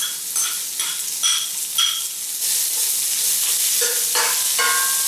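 Red onions and spices frying in a pan, a steady sizzle broken by repeated scraping stirs and clinks of a utensil, close and fairly loud with no talking.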